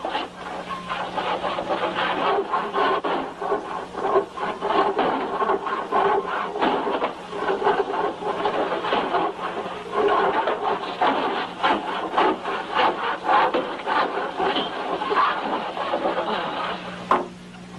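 In a dubbed Western film scene, a handsaw rasps through wood in steady, rhythmic back-and-forth strokes, close and fairly loud, continuing without pause.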